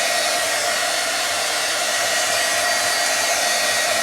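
A blow dryer runs steadily at close range, drying a wet stamped paper card with watercolor-style inks during a card-making class, a continuous loud rushing whoosh with no talking.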